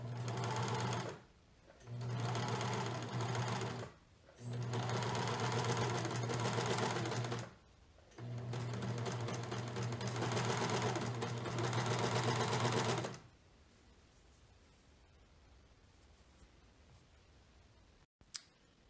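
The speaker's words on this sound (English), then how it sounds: "I'm going to go ahead and just finish off seam allowances right now with the serger" Serger finishing the seam allowances of a raglan-sleeve baby dress, running in four loud, fast-whirring bursts with brief pauses, then stopping and leaving quiet room tone.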